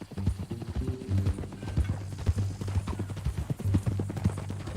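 Horse hooves clip-clop in a steady rhythm across a Red Dead Redemption 2 epilogue scene near a ranch, close and fairly loud, with a low ambient hum beneath and no talking over the steps.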